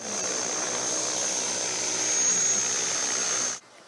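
An agricultural drone flies over farm fields, its rotors giving a steady, even buzz with a high whine on top. The sound holds constant for several seconds, then cuts off abruptly.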